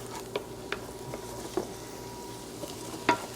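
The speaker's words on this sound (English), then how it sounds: "We just want to kind of brown the garlic and pepper so we can kind of infuse the oil" Garlic and pepper frying in oil for linguine with clam sauce, a faint low sizzle in the pan broken by a few scattered stirring taps and scrapes, the sharpest near the end.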